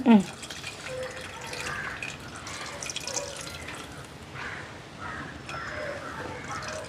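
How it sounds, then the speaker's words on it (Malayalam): Tamarind water poured into a cooking pot of softened onions makes a soft, steady splashing trickle, with someone talking at the same time. "ഇതിലേക്ക് പുളി വെള്ളത്തിലിട്ട് വെച്ചിട്ടുണ്ടായിരുന്നു ഒഴിക്കുകയാണ്"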